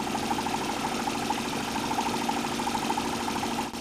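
A Stirling engine fitted to a homemade motorized bicycle runs steadily, giving a close, even, rapid pulsing chug that holds a constant pace for the whole stretch.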